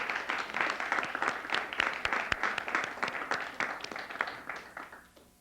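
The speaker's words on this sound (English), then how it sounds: "if you could just give me a big round of applause for all the judges that went through all that" A large audience applauds the judges at an awards ceremony, dense clapping that holds steady and then thins out and fades toward the end.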